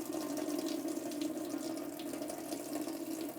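Tap water runs steadily into a jar of alfalfa sprouts being rinsed, a continuous close hiss and gurgle of flowing water at even loudness, without any talking.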